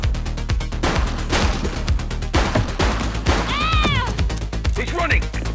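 Rapid, continuous gunfire as a woman shoots, loud and close, with crackling bursts running the whole time and brief voices heard between the shots.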